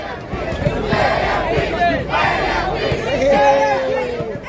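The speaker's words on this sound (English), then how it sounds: "Oh, they're cheering." Spectators at an outdoor streetball court in New York shout and cheer loudly in rising waves, with excited voices close to the microphone.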